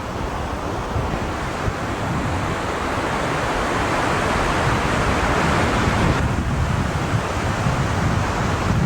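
The Niagara River rapids rush in a loud, continuous, broadband roar of churning water, with steady wind buffeting the microphone throughout.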